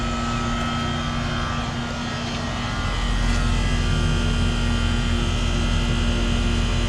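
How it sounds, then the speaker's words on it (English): A noisy 2005 York Olympian 2.5-ton central air conditioner runs outdoors, its compressor hum and fan whoosh steady and loud throughout, with a strong low tonal drone and no voices. "got a noisy York Olympian right here"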